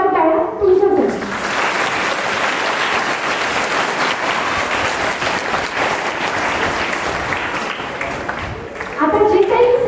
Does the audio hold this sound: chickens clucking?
no